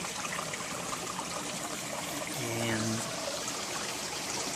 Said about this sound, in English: this is a pretty good sized creek.